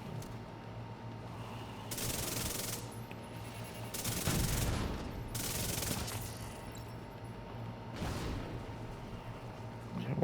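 Rapid bursts of automatic gunfire from a high-fire-rate weapon in a shooter game, three or four clustered volleys with short gaps, over a low constant game hum.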